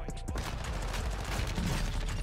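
MP5 submachine gun fire in Warzone 2 on Al Mazrah, a rapid, dense burst of game gunfire running loud and continuous under a busy mix with faint voice.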